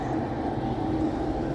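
A train going by near a house with a front porch, a steady low rumble holding at even loudness throughout, with no voices over it.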